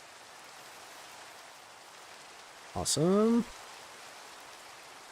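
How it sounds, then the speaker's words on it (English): Steady rain falling in the Minecraft video game, a soft continuous hiss running through the whole stretch, with a single voice speaking briefly over it near the middle. "And I got some nice rain to chill out too."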